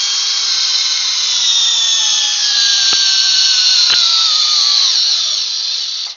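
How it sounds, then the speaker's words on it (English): A Metabo HPT subcompact drill driver with an 8 amp hour battery spins at full power during a torque test, giving a loud continuous whine that rises slowly in pitch, with a couple of sharp ticks partway through. "The Metabo HPT, this is their subcompact drill driver"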